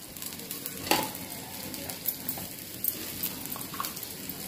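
Spices and ginger frying in oil in a pan for a Maharashtrian panchamrut dish, stirred with a spoon: steady sizzle with scattered scraping clicks of the utensil against the pan, close and continuous.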